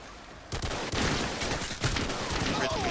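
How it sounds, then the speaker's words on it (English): Gunfire in a first-person shooter video game bursts in after a short quieter start and becomes a loud, continuous rattle of rapid shots until the end. "Christy's out there. He's shooting."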